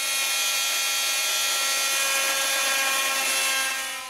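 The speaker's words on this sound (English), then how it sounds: "A multi-tool is perfect for this type of cutting." Oscillating multi-tool cutting through a composite mast along its groove, a steady high-pitched buzzing whine held loud and continuous, easing off at the very end.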